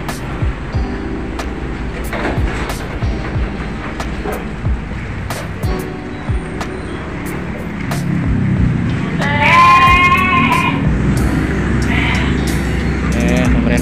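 Goats bleat at feeding time in a pen: a short run of distinct calls stands out near the end over steady low rustling and background noise.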